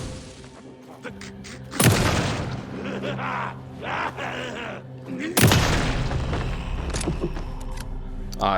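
Shotgun blasts in the video game Alan Wake 2, two heavy booming shots a few seconds apart, each followed by a long rumbling tail under quieter in-game ambience and faint voice-like sounds.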